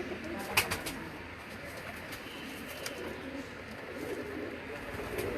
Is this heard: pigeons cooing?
yes